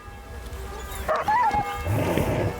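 Dogs barking and snarling as they fight in the medieval game Kingdom Come: Deliverance II, with a few close barks, yips and a whining howl over a busy background.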